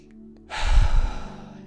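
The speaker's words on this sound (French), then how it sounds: "de prendre de bonnes respirations" A single deep breath drawn in through the nose and mouth, close and breathy, swelling over about a second after a quiet start, with no words spoken.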